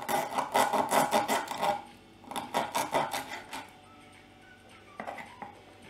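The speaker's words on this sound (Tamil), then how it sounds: "இப்போ இந்த வாளை கட் பண்ணிடலாம்" Knife or scissors cutting through the tail of a cleaned sardine (mathi fish): a close run of quick, rasping crunchy strokes, then a pause and a second shorter burst, with a faint final snip.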